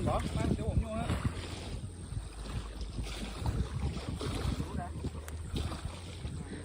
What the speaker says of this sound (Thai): ลมดีจริงๆ